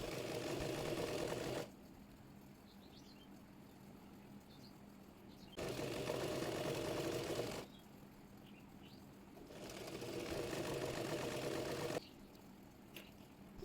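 An electric sewing machine runs in three loud bursts, stitching the folded lower hem of a cotton baby girl's frock, with quiet pauses between the runs and faint bird coos in the background.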